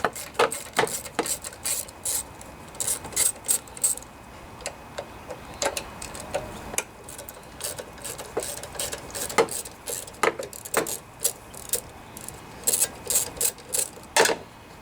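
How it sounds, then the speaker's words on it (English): Metal clicks and rasps from a wrench backing out the small bolts that hold the carburetor on a Briggs and Stratton lawnmower engine, a quick irregular ticking that runs in bursts throughout, close up with no talking. "Now we can go ahead and take the carburetor off."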